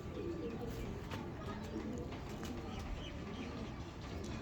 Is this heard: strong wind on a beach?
no